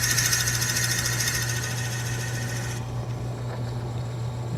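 A wood lathe spinning at lowered RPM bores a hole in wood while making a toothpick dispenser, giving a steady, loud motor hum with a bright whirring drone that drops away partway through, leaving a duller rumble.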